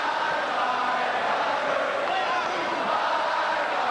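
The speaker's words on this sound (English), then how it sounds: "The crowd is chanting a little melody toward Brian Bosworth." A stadium crowd at a 1986 Oklahoma vs Miami college football game chants a melody aimed at Brian Bosworth, a broad, continuous roar of many voices heard from a distance.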